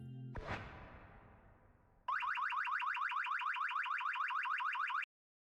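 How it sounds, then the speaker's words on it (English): A car alarm inside a puzzle video game: a rapid, repeating electronic warble that cuts in loudly after a decaying crash-like burst and holds steady for about three seconds before stopping abruptly. "I said car alarm is the sound"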